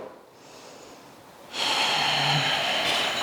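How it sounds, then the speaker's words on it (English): A deep breath drawn during a yoga power flow, starting soft and rising into a strong, steady airy exhale in the second half, close and without talk. "One more breath here."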